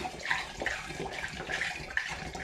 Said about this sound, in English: I'm going to begin by adding a litre of apple juice.